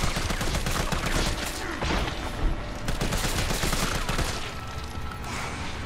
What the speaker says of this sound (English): So let's shoot it a bunch in the face,